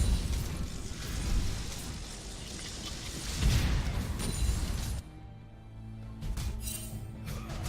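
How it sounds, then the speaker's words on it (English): Double bomb explosions in a MOBA esports match, heavy booming bursts and rumbling impacts through the first few seconds, then a quieter stretch with lighter game effects. "Another good double bomb landing."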